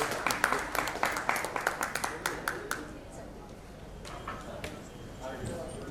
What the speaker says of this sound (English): Can I have a round of applause as I welcome him?